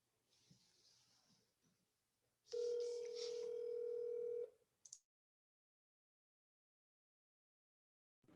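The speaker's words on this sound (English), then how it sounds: "I'm just making a phone call here" A steady telephone dial tone sounds for about two seconds, with short dialing beeps just after it. Quiet room noise and faint breathing come before it, and the line then falls silent.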